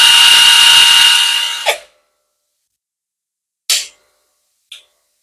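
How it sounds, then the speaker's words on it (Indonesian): A J-LD JV88 48V cordless impact wrench in bolt-loosening mode runs with a loud, close whine that stops abruptly after about a second and a half. Two short trigger bursts follow, each cutting off almost at once. "Walaupun kita tekan triggernya, dia akan berhenti secara otomatis khusus untuk mode membuka baut."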